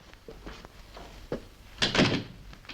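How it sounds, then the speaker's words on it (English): A door in an office pulled shut, a few soft shuffles and knocks building to a solid thud and rattle near the end, close and fairly loud with no talking. "Marion, shut the door a minute, please."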